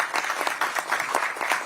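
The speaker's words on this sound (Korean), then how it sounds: "우리 박주민 의원께 큰 박수를 부탁드리겠습니다." Audience applause at a Democratic Party election campaign committee event, honoring politician Park Ju-min: a steady, dense patter of many hands clapping, moderately loud and sustained without voices.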